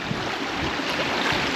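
A river in the Lake District rushes past as a continuous broadband wash of flowing water, loud and close, with no voices.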